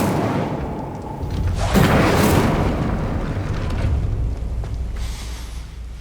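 An Incendio fire spell cast in the Hogwarts Legacy video game erupts as a loud whooshing burst after a second or so and roars for a couple of seconds, then trails off into low rumble with no voices.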